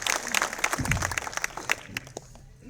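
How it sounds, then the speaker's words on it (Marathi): A poetry-reading audience breaks into loud applause, dense clapping that swells and then thins out, with a brief voice rising underneath partway through. "एकदा जोरदार टाळ्या केशवदादांसाठी आपण वाजवा."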